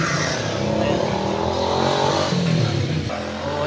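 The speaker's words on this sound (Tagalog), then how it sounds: "Ingay ng motor." Motorcycle engines at a roadside eatery in Vista Verde, a loud continuous drone with a rising rev partway through and voices talking underneath.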